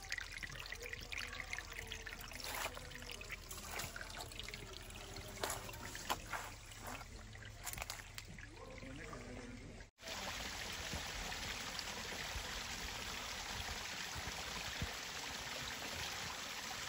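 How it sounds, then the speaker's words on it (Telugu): Small water channels trickle through the Garden of Caves in Meghalaya, a continuous soft flowing hiss with scattered splashy ticks, broken by a brief dropout before the stream noise resumes steadily. "వాటర్ చిన్న చిన్న కాలువలు ఉంటాయి, వాటర్ ఫ్లో అవుతూ ఉంటది."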